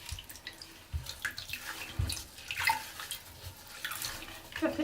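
Raw suri alpaca fleece being washed in water: faint splashing, sloshing and trickling with irregular soft drips and swishes, close and quiet with no talking.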